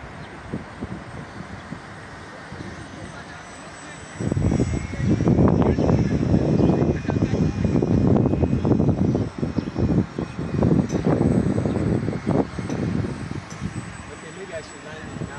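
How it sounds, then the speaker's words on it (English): RC airplane fitted with a homemade propeller making a low flyby, its engine buzz swelling suddenly loud and close, holding steady for several seconds with wind buffeting the microphone and a voice talking over it. "Let's do a low flyby."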